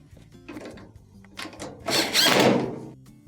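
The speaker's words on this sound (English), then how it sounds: "Let's go ahead and reinstall the 2 holding screws." Two holding screws being reinstalled on a Maytag dryer during a drum support roller repair, close mechanical clicks and ratcheting turns building into a louder, brief burst of screw driving and scraping.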